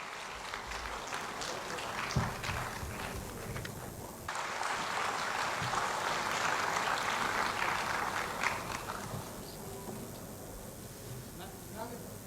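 An audience at a 2022 Lucknow mushaira applauds a poet being welcomed, a swell of clapping that builds to a broad wash and then fades, with a host speaking over it.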